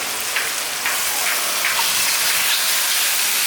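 Goat intestines (chuista) hit a hot pan of softened onions with a loud, steady sizzle, a dense hiss with a few crackling pops, close up and with no talk.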